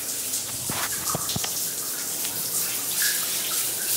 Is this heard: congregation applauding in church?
no